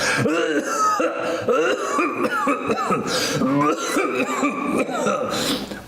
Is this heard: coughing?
yes